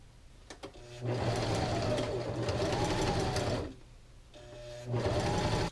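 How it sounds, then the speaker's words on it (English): A sewing machine stitches straps for a Thor costume build, running in two sustained bursts of steady, fast mechanical whirring, with a brief pause between them and short stops at the start. "So I'm still going to create a few straps that will just go across and just get stitched right"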